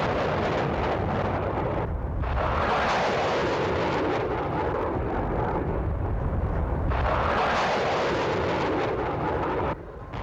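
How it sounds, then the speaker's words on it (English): Rockets launch from Baghdad airport during the 2003 Iraq war, a sustained roaring rush of rocket motors that swells, fades and surges again, heard from a distance over a steady rumbling background with no talk. "Rockets being launched from Baghdad airport this morning"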